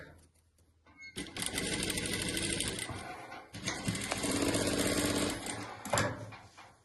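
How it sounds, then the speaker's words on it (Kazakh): Sewing machine stitching quilt patchwork, running back and forth in two long loud bursts separated by a short pause, with a quieter start before the motor kicks in. "Бекем болу үшін алдыға артқа тігіп бекемдеп аламыз"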